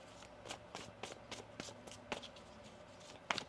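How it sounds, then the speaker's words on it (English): Tarot cards are shuffled during a reading, with soft rapid riffles and taps. The sound is close and quiet, with no voice over it. "One more shuffle."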